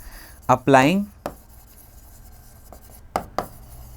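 Marker or chalk strokes on a board during a Class 11 physics lecture on fluid dynamics. Faint scratches and taps follow a short burst of speech in a quiet room.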